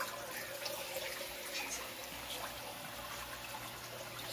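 Continuous rushing high-tide floodwater flowing in, in Taliptip, Bulakan, Bulacan, a steady broadband flow with no pauses, fairly faint and constant throughout.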